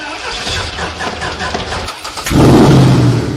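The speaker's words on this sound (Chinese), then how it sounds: "冷启动成功，怠速稳定，油压正常" A homemade engine with an aviation-steel crankshaft is cranked in a small workshop, then catches and settles into a loud, steady, low idle that rumbles on to the end.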